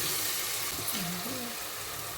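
Tomatoes and onions fry in a pan in a home kitchen, a soft steady sizzle throughout, with a voice speaking quietly over it.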